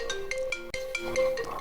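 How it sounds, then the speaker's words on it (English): An iPhone running iOS 16 plays a ringtone preview, a bright melodic tone pattern of quick repeating notes, clear and steady throughout with no talk over it. "select any ringtone by tapping on it"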